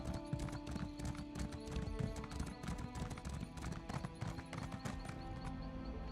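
Horse hooves clip-clop in a steady rhythmic gait in The Elder Scrolls Online, with an occasional whinny, moderately loud under faint game ambience.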